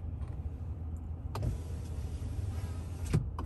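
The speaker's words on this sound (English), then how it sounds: "So if I just try to show you opening the rear window" Power rear window of a 2021 RAM 1500 Rebel Night Edition pickup sliding open, a steady quiet electric motor whir inside the cab that starts with a click and stops with a clunk about two seconds later.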